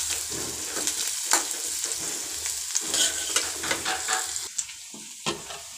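Onion frying in oil in a home kitchen pan until browned, a continuous close sizzle broken by stirring scrapes and a few sharp spatula knocks, with no voices.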